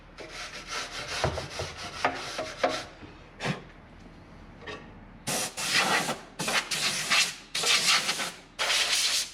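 Old paint is scratched off an old Villager narrowboat by hand with a scraper. Rough, close rasping strokes come in bursts, with short pauses between them, and grow louder and more regular in the second half.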